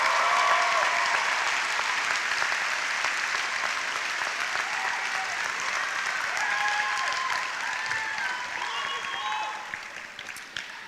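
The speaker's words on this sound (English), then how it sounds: "please give a round of applause" Sustained applause fills a high school graduation commencement ceremony, a large audience clapping steadily and loudly for about ten seconds before tapering slightly at the end, with faint voices mixed into the crowd noise.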